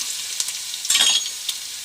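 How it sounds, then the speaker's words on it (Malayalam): Garlic dropped into hot oil in a heated chatti for chicken curry, giving a brief, bright hiss of frying with a louder burst of sizzle partway through and a few light crackles. "ചൂടായി വെച്ച് ആവശ്യമുള്ള വെളുത്തുള്ളി ഇട്ടു"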